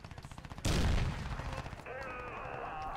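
A single loud, booming rifle shot from the video game Crysis 2 cracks after a run of faint rhythmic tapping, then trails off into a lingering reverberant tail.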